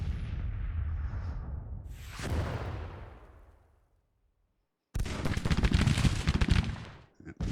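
Musket volleys from skirmishers in the Grand Tactician: The Civil War video game: a rolling burst of gunfire that fades into a brief silence, then a louder, denser crackle of shots erupts and cuts off abruptly.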